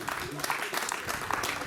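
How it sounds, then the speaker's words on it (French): Audience applauding at a 2020 municipal election campaign meeting, a dense patter of many hands clapping together, fairly close and sustained, with voices mixed in among it. "Mesdames, Messieurs, je vous demande d'applaudir le docteur Jean Danty"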